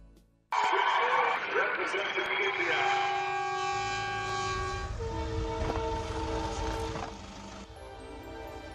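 A train passes close by, its loud horn blaring in long sustained blasts over a heavy rumble of rolling wheels and carriages that continues as the horn fades.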